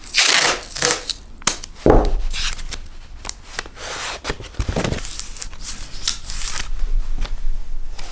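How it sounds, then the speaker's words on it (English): Close, busy rustling and crinkling of paper and tape as a to-do list is stuck up on a wall, with sharp tearing and rubbing bursts running throughout and no speech. "let's get this taped up on the wall"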